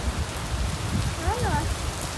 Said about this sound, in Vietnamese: Các bạn ơi, mưa lớn rồi các bạn